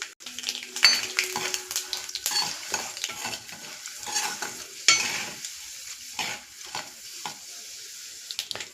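Chana dal and urad dal fry in hot oil with mustard seeds and cumin, giving a steady crackling sizzle broken by several scraping stirs and light clinks of a spoon against the pan, close up with no talk.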